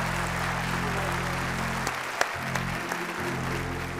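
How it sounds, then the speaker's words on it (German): Clapping from a church congregation at an Easter service fills the space as a dense, steady wash of applause, with a low hum dropping out midway and a few louder single claps standing out. "Noch einen Applaus für alle!"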